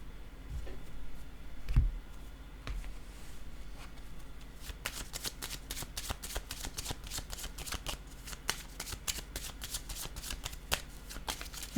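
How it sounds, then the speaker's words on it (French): Playing cards handled on a table during a card game, a quiet run of crisp clicks and flicks, dense and rapid toward the end, with no talking. "Je vais déposer une carte en cette direction."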